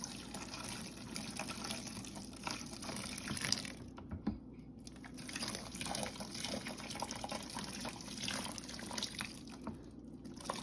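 Hot water runs and splashes steadily over a cheese grater to dissolve soap off it, a continuous liquid rush with faint drips and clinks, fairly close and without talk.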